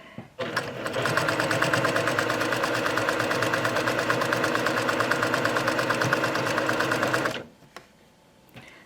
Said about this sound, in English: Now we're going to sew very close to the edge here